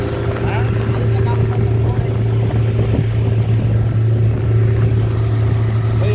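A 140hp Tohatsu outboard engine drones steadily on a 24-foot Kapilvastu glass fiber boat on the Narayani river, a loud, close, continuous low hum mixed with wind and water noise.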